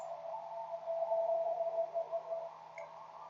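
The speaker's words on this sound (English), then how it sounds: "The sounds you hear in space." NASA space-probe recording of space sounds: a steady, eerie electronic hum with a sustained mid-pitched tone and faint tonal shimmer, droning evenly throughout with a brief high blip near the end.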